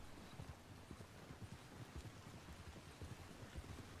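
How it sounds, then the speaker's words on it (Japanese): Steady rain falls across the open landscape of Red Dead Redemption 2, a dense even patter with soft low thuds like hooves beneath it, continuous and fairly quiet throughout. "また雨だよ。"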